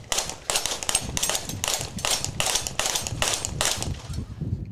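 Pistol shots at a 3-gun shooting match, a rapid steady string of about ten sharp, loud reports fired by competitors, with no talking.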